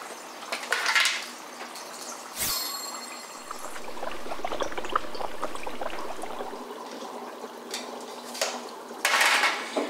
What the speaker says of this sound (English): Must be stirred with a rogue dagger.